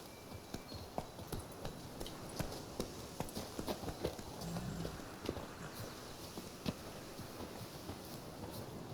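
The hooves of Roach, Geralt's horse in The Witcher III: Blood and Wine, clop in a steady walking rhythm with close, distinct strikes, quiet overall and lasting about nine seconds.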